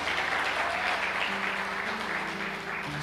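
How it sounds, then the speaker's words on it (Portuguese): A church congregation applauds in a dense, sustained round of clapping, while a low sustained organ or keyboard tone enters beneath it midway. "Vamos aplaudir Jesus pelos irmãos."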